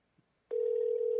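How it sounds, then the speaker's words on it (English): A telephone line gives a steady, unbroken tone that starts abruptly after a short near-silence and holds evenly to the end. "Let's see if we can get Rick on the phone"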